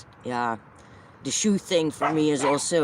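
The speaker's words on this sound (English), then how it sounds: "Sorry for the dogs." Dogs bark and yip in several close, sharp bursts, one early on and a cluster later, mixed with a person talking.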